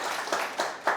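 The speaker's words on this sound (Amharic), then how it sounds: "በእናታችሁ ለዚህ ባለሱቅ አጨብጭቡለት።" A few sharp claps ring out in a training session as an audience applauds a shopkeeper, three distinct hits in a quick uneven rhythm, close and moderately loud.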